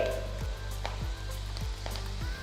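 Cabbage pakodi batter frying in hot oil, a continuous soft sizzle with a few regular low thuds as pieces are dropped in, fairly quiet.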